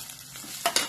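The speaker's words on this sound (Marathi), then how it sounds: "हे जे चवाळ शिजवून घेतलेलं आहे ते याच्यामध्ये घालायचं।" Cooked black-eyed peas (chavali) tipped into a hot pan for chavali usal and stirred, a soft sizzle followed by two quick spoon scrapes near the end, close and brief without speech.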